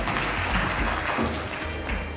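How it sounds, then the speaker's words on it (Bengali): An audience at a school SSC farewell event claps together in a dense, continuous burst of applause that fills the room, close and moderately loud throughout. "তালি সবাই জোরে বলো তালি প্লিজ"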